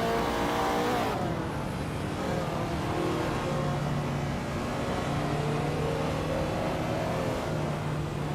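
Race cars run wheel to wheel, engines droning and shifting pitch together as they hold side by side, a sustained loud mechanical roar with a sudden change in tone early on and no speech.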